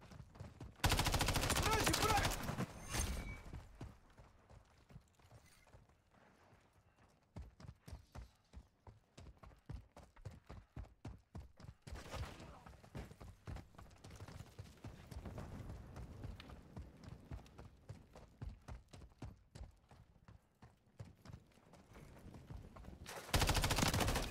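Gunfire in Call of Duty MW3, long trains of rapid automatic shots clattering steadily for many seconds, with loud heavy bursts at the start and end, close and punchy, with occasional talk underneath.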